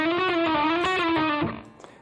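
A distorted electric guitar plays a sustained, slightly wavering line with a few sliding chromatic passing notes, loud and close, then cuts off and fades into near silence.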